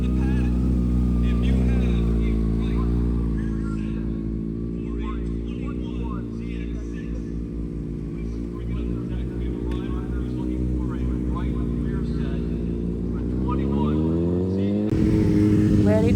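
A Kawasaki ZX6R motorcycle engine drones steadily throughout a first lap on a race track, its pitch rising and falling with throttle changes, loud and close, with a brief surge near the end.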